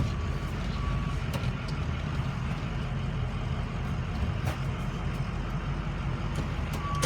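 A 2006 Ford F550 truck with its PTO engaged shifts into reverse in four-high. A steady, loud engine rumble fills the whole stretch, with a few short, thin reversing beeps early on and again at the very end.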